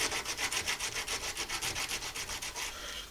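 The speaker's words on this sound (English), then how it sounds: "I'll do a little bit of 80 grit sandpaper work in there" 80 grit sandpaper rubs rapidly back and forth on a carved bone fish hook, about a dozen even, close scratchy strokes with nothing else heard.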